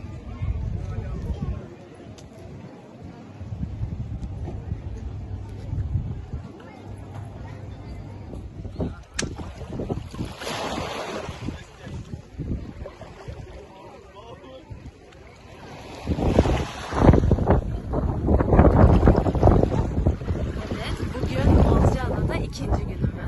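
Strong wind buffets the microphone at a seaside cove, a steady low roar that surges louder in gusts toward the end, with people talking intermittently underneath.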